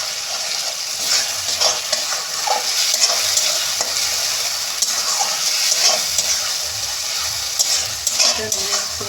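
Green chili and ginger-garlic paste frying in hot oil for a spicy dried fish curry, a steady close sizzle with occasional stirring scrapes and clatter throughout, no voices.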